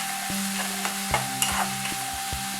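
Onions sauté in a pan with a close, steady sizzle and a series of rhythmic spatula scrapes and taps as they are stirred.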